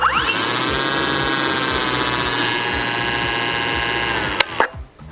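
A GTM CS56/3000BL cordless chainsaw's small motor whines at high revs with no load, steady and close, then spins down and cuts off near the end.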